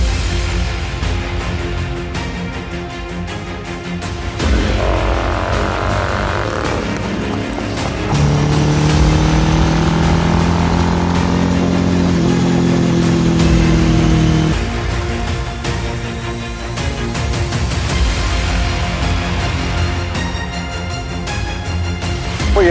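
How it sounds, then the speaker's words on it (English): A Royal Enfield Interceptor 650 with its 650 twin engine, ridden on the road: a steady, loud engine drone that swells and climbs in pitch midway through before settling back, with no talking. "They share the same engine and it's one hell of a motorcycle to ride."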